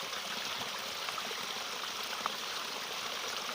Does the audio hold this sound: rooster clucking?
no